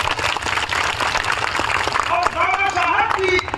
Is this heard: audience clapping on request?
yes